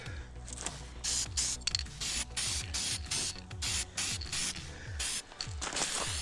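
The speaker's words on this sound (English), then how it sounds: "Spray the heads of those bolts." An aerosol spray can hisses in about a dozen short, sharp bursts separated by brief pauses, close up and loud.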